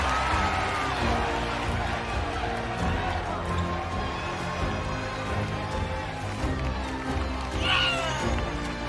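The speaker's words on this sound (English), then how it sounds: "This Cincinnati crowd loving themselves some Alexander Turner." Cincinnati crowd at a fight night event, a dense, steady roar of cheering and shouting from a large indoor audience that continues throughout, with scattered whoops rising above the din.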